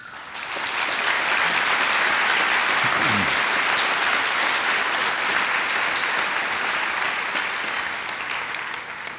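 A large graduation audience breaks into sustained applause, rising quickly to a dense, steady roar of clapping that carries on for several seconds and only tapers slightly near the end.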